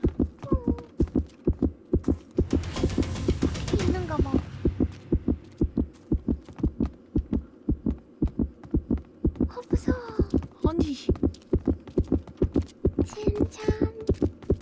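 A heartbeat effect from the survival game Survival Frenzy thumps in a steady, regular double beat throughout, close and prominent, while players chatter and react over it.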